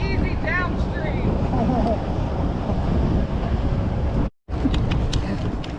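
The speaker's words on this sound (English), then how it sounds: "I was not expecting this wind." Strong wind buffets the microphone outdoors on Nickajack Lake, a steady roaring rush with water chop underneath, with a brief dropout near the end.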